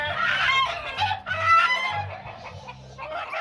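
A Lindell-line rooster from Cruz de Piedra clucks while being handled, giving loud, close, repeated throaty bursts in an uneven rhythm, with no talk over it.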